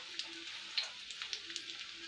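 Fresh, pungent mustard oil hits a hot traditional kadai for a hilsa fish curry, giving a soft, steady sizzle with faint crackles and pops, quiet and alone without talk.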